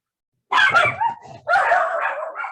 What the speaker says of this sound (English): Yep, those are my dogs.